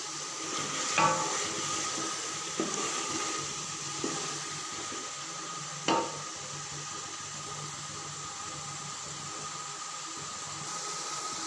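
Chicken and a cup of boiled chickpeas stirred and frying in a pot for chicken pulao, a steady low sizzle with a few sharp scrape and clink knocks of the spoon against the pot.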